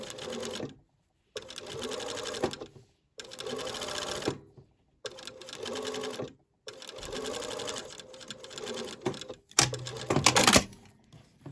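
A sewing machine stitches a double seam on lace in several bursts of fast, even whirring separated by short pauses, close and clear, with a sharper clatter near the end.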